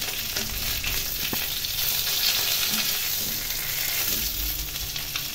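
Fish fries in hot oil, turned over partway through cooking, producing a dense, continuous sizzle heard up close, with faint crackles and small stirring clicks and no one speaking.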